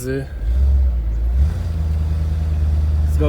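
A restored Lincoln Continental convertible runs under gentle throttle. The engine gives a deep, smooth, low rumble close by that swells slightly and then holds steady, with someone talking over it.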